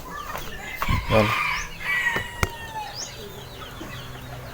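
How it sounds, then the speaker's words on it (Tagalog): A pet bird that came home after being lost, with missing flight feathers, gives a few close clucking and crowing calls with soft rustling. A person says a word briefly. "Ito yung ibon na nawala sa atin mga kapatids"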